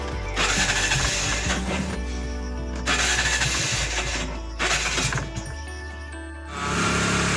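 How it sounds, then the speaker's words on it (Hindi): An auto rickshaw engine, cold after sitting overnight, is started in the morning and settles into a steady, loud, close rumble with surges in revs and rattling, heard alone without speech. "तो मैंने ऑटो स्टार्ट कर लिया है"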